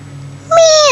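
A toddler's voice imitates a cat's meow, one clear rising-then-falling note that starts halfway through and holds loud to the end, after a quiet stretch with a low steady hum.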